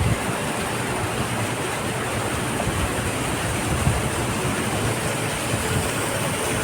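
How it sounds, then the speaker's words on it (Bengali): A small waterfall beside a coastal walking path in Busan, South Korea, gives a steady, even rush of water, fairly close and constant throughout with no voices. "এখানে একটা ছোট্ট ওয়াটারফল"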